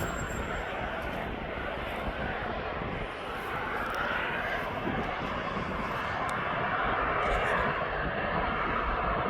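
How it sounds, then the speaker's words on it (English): A Ryanair Boeing 737-8AS airliner on the taxiway at East Midlands Airport gives off a steady, broad jet engine roar that holds evenly throughout. "The flight number is FR535, and that's a Boeing 737-8AS."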